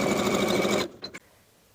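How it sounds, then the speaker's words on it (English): Close, loud sewing machine stitches a denim jean skirt's fly facing seam in one steady run before halting, with a couple of brief clicks after. "Sew from the top to the notch with a 3/8 inch seam allowance."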